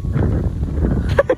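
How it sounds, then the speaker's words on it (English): Gusty wind buffets the microphone in low rumbling bursts, with a few brief voice-like sounds near the end. "It's a bit windy, isn't it?"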